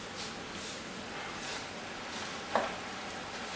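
Spinach is stirred into spaghetti squash in a pan: a steady, soft sizzling hiss runs throughout, broken once by a single light utensil tap against the pan.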